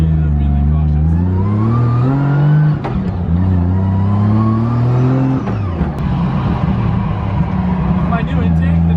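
A 1.5JZ turbo car driving with a new intake, its engine droning and rising in pitch through the gears with a deep low tone, loud and close, with people talking over it.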